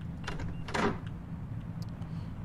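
Door opening in the indie horror game My Strange Attic, a brief creaking, scraping swing near the start over a low steady ambient hum, followed by a couple of faint clicks.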